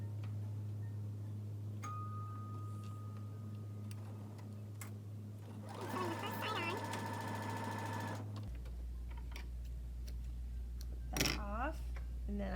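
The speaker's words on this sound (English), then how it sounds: "So I'm going to sew one side onto here and then I'll sew the other one on." A sewing machine stitches quilt block pieces together, a steady mechanical run of a few seconds in the middle under a constant low hum, with quieter handling noises around it.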